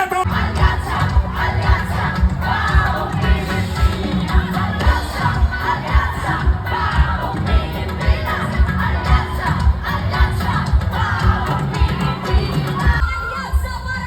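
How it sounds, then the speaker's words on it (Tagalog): A large crowd at a political rally in the Philippines shouts and roars loudly and continuously for a senator, a dense wall of voices cheering together. "Isang malakas na sigawan"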